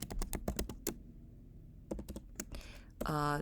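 Rapid keystrokes clatter on a computer keyboard in short bursts separated by pauses, close and crisp, with a voice starting to speak at the end.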